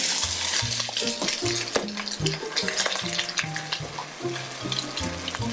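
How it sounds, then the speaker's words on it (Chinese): Moon shrimp cakes pan-fry at moderate heat in a nonstick pan, giving a continuous close sizzle and crackle with faint scraping and clinking from cookware underneath, no one speaking. "我们用煎的就好了"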